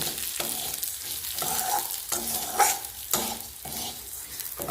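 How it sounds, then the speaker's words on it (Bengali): Turmeric-coated rice stirred and frying in a pan, a steady sizzle broken by repeated scraping strokes at a regular rhythm, close and moderately loud with no voices. "মনে হচ্ছে যে এটা চাল ভাজছে"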